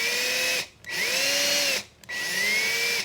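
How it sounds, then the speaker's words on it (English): A power drill whines in three bursts separated by short pauses, its pitch sagging under load as it bores through jewelry metal, close and steady. "I'm pretty much just letting the weight of the drill"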